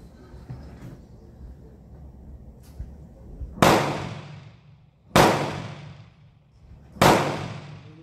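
An Italian Vetterli Model 1870 carbine fires three loud, sharp shots at roughly even intervals outdoors. Each report rings out and decays, with quiet handling noise before the first shot.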